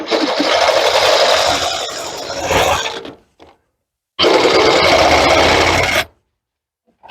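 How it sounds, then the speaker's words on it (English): A Sawzall reciprocating saw cuts through a motorhome bumper in two loud, close bursts of harsh buzzing, split by a short pause. Each burst stops abruptly. "So we're going to take the Sawzall."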